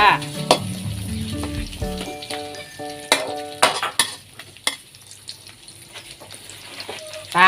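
Chopped garlic and blanched liver stir-fry in hot oil in a wok, giving a loud burst of sizzling at the start, then scraping stirring strokes and crackle that settle to a quieter fry.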